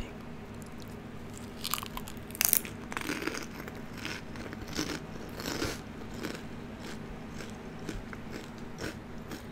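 Crunchy Taco Bell cinnamon twists, fried pasta dusted with cinnamon sugar, being bitten and chewed up close, with crisp crackly crunches coming in irregular bursts over a quiet background and no talking.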